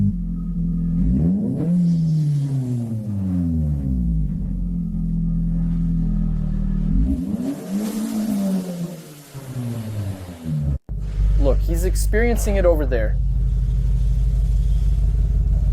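A car engine revs repeatedly at close range, rising and falling in pitch in several sweeping bursts over a constant low idle rumble, with brief talking heard between the revs.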